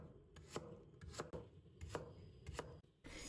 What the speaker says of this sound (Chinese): 然后切成土豆丁。